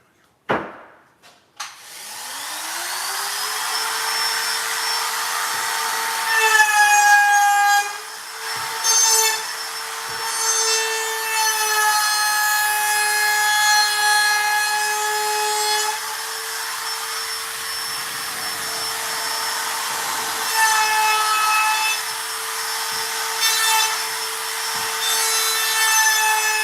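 Router shaping the edges of a 3/4-inch select pine board for a bathroom shelf, spinning up with a rising whine, then a sustained loud motor howl with rougher cutting bursts as the bit bites the wood, running alone without talk.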